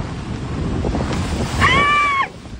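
Strong typhoon wind roars with surging waves at a municipal fish landing in Pio Duran, Albay, a steady broadband rush that swells near the end, with a brief high whistling tone cutting through.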